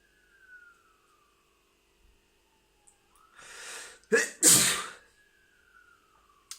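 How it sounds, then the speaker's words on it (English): A single loud sneeze comes after a sharp inhale, close to the mic. A faint siren wails in the quiet background. "Might be about to sneeze."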